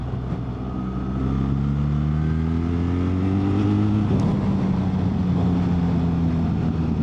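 A BMW R1300GS adventure motorcycle accelerating through gears with its quick shifter, engine tone rising steadily then dropping sharply at a shift before climbing again, loud and close over wind noise.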